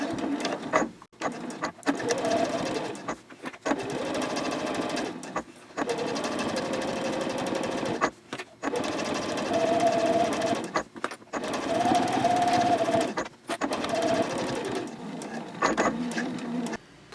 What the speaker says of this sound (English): now we're going to sew straight across, and we're going to stitch right on top of that previous line of stitching